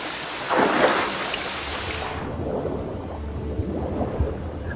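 Water flows inside a well cave in The Witcher 3, a steady rushing wash with a louder surge near the start, then a duller, softer flow for the rest.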